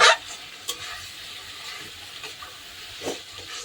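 Spice masala frying in a pan for a fish and potato curry, a soft steady sizzle broken by a few scraping stirs, quiet and close with no talking.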